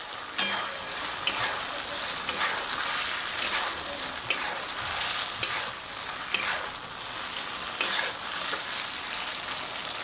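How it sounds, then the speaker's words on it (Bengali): Fried vegetable Manchurian balls tossed in a pan with a spoon, a gentle sizzle under a series of sharp scraping knocks at roughly one-second intervals, close and without speech. "এবারে এর মধ্যে দিয়ে দিচ্ছি ভেজে রাখা বড়াগুলো। এটা দিয়ে একটু নাড়াচাড়া করে নিচ্ছি।"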